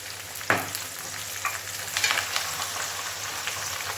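Green chilies and curry leaves fry in hot oil, with a steady sizzle, a sharp hiss as ingredients go in, and light stirring scrapes.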